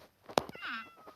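A single short cat meow from the Minecraft video game, clear and close, with a brief click just before it and nothing else around.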